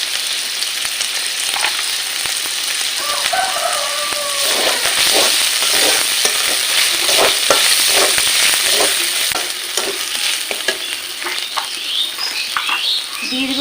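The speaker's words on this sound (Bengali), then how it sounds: "ভালো করে মশলা কষে নেব।" Mutton curry spices cook in a pan with chopped tomato, salt and chili powder, a loud close sizzle layered with repeated scraping and clattering of stirring, with no talking.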